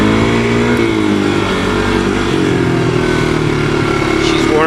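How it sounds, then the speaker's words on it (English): A 1985 Honda ATC 250SX three-wheeler engine, warmed up, runs loud and close with a steady droning idle that rises slightly as it is revved, a voice briefly audible near the end. "She's warm enough to run it up a little bit now."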